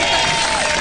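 Applause sound effect played for a farmer from Setúbal, a steady wash of clapping and crowd noise at full level throughout the short burst, with no talk over it.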